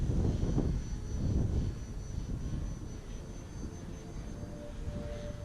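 Hacker Edge 540 V3 RC plane flying past in windy conditions, a faint distant motor drone swelling and fading against wind noise, no voices.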